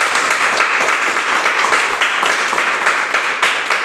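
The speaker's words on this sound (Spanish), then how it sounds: "Vamos a dar un fuerte aplauso al Señor." A church congregation gives a strong burst of applause, dense continuous clapping from many hands filling the room throughout.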